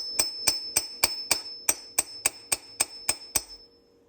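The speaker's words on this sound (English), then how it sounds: "Got my punch. Got my hammer. And do something like this." A hammer strikes a metal punch twelve times in a steady rhythm, each blow a sharp ringing clink, close and clear with no talking, freeing a stuck throttle slide on an Amal 930 carburettor.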